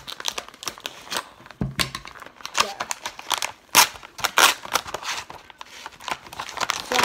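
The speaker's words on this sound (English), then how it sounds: "I'm just gonna cut off the lid." Plastic toy packaging being cut open to remove the lid, close crinkling and crackling of stiff plastic in irregular bursts with sharp snaps, while a person talks over it.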